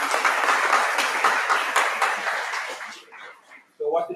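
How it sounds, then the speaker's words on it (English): A crowd applauding warmly for a few seconds, the clapping fading out before a voice briefly starts speaking. "Give her a big round of applause."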